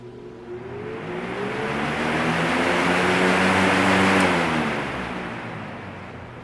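A counterfeit Lasko 3733 Type 1 box fan's motor winding down after being switched off, a steady hum with falling tones that swells then slowly fades, no voices.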